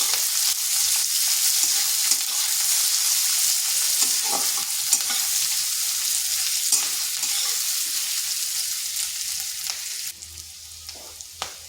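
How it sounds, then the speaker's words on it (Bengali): Long onion slices frying lightly in a pan make a steady, bright sizzle close by, with occasional soft stirring scrapes and a slight change in tone near the end. "এরপর পেঁয়াজটাকে হালকা একটু ভেজে নিচ্ছি যাতে পেঁয়াজটা নরম হয়ে যায়"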